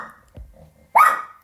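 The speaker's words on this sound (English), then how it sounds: "Teddy, no bark." A single short, loud bark from a dog named Teddy, close by, after a brief low whimper or grunt, with an otherwise quiet room.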